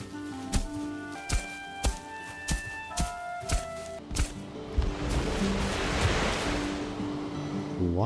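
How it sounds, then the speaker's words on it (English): Ocean waves splash in Valheim, a loud rushing wash of surf that swells and lingers for several seconds after a run of regular tapping footstep-like hits. "Why is here an ocean splash?"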